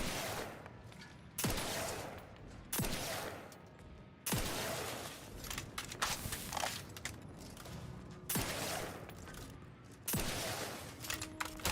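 Shooting in The Outer Worlds 2 sounds as sharp, loud gunshots at intervals of roughly one to two seconds. Each shot is followed by a mechanical clatter and reverberant tail in the game environment.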